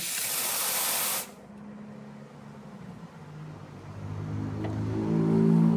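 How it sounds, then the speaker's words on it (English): A La Marzocco espresso machine's steam wand blasts a loud hiss for about a second, then cuts off, leaving a low rumbling gurgle that slowly grows as milk is steamed. "you have your steam wands for steaming milk"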